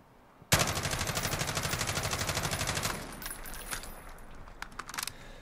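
H&K G36 assault rifle fired in Call of Duty Modern Warfare: a loud, rapid automatic burst of about two and a half seconds, then fading echoes and a few scattered metallic clinks.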